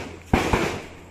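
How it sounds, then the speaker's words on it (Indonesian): Distant gunshots from people practising shooting near a fishing spot in Pamulang: a few sharp, booming cracks with short echoing tails, spaced irregularly over faint outdoor ambience. "Bukan orang hajatan ya, itu orang belajar nembak."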